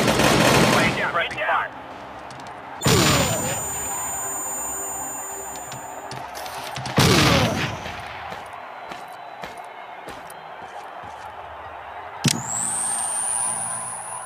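Bursts of automatic gunfire in the mobile tactical shooter Rainbow Six: Shadow Vanguard, several loud rapid volleys separated by pauses, with a rising electronic tone near the end.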